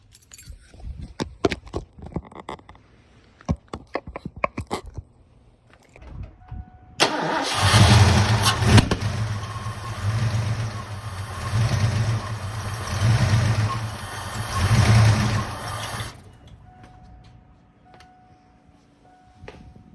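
A Ford Mustang Foxbody engine cranks and catches after sitting five years, then runs roughly with a misfire for about nine seconds before cutting off, preceded by scattered clicks and handling noises.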